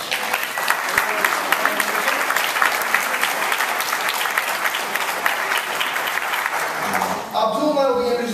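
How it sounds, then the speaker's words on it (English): Concert audience applauding steadily for several seconds, a dense wash of clapping that ends abruptly, followed by the start of a brighter sound. "So let's have another round of applause."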